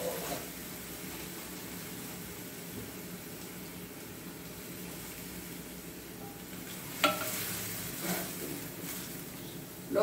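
Baked beans with sautéed onion and herbs frying in a home kitchen pan give a steady, quiet sizzle throughout, with a few brief stirring clatters near the end and no talk.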